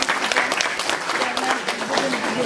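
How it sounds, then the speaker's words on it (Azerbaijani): A school crowd claps for a teacher at a Victory Day event, with dense sustained applause throughout and a voice speaking underneath. "Düşələ müəllimə bir alqışlar gəlsin"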